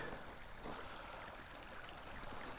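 A shallow creek flows in a steady, soft, even wash of running water, faint and continuous with no voices.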